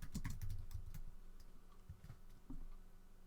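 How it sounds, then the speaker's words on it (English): Typing on a computer keyboard during a live web-browsing session, a quick run of close, crisp key clicks with brief pauses and a second short burst toward the end, no talking. "What if I go to Google and start typing?"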